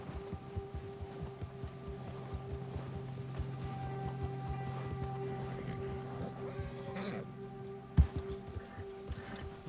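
An agitated horse in Red Dead Redemption 2 neighs and snorts amid hoof clops and ambient game noise, fairly faint and mid-distance, with a sharp thud near the end.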